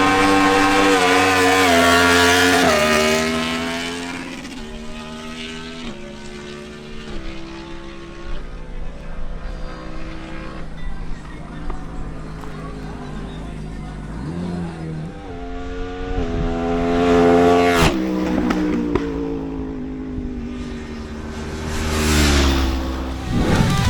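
A Honda CB1000R runs a motorcycle drag race qualifying pass in the 13-second class, its engine screaming upward through rising gear pulls, easing between shifts, then surging again before fading as the run ends.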